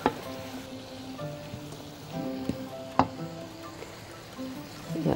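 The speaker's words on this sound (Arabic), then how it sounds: "نقلب البشاميل بتاعنا تقليبة حلوة" Béchamel sauce stirred in a pan with a light, steady sizzle and bubbling, sharp clicks of the utensil against the pan, and faint background tones.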